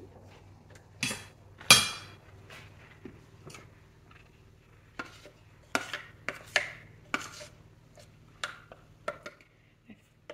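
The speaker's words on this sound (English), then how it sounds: "I just get a spoon and scrape those edges in?" A spoon scrapes around the sides of a mixing bowl of cake batter, giving quiet, sporadic knocks and scrapes with pauses between, close and intimate in a calm kitchen.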